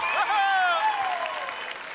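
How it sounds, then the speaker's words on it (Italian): Crowd at a Sant'Efisio festival applauding, clapping under a speaking voice, which fades near the end. "Ce l'avete l'applauso bello per loro?"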